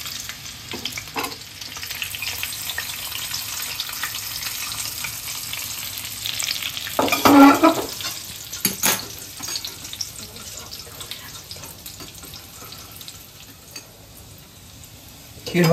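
Chopped garlic sizzles in leftover chicken frying oil, a steady frying hiss with occasional stirring clatter and a brief louder burst midway, close and moderately loud.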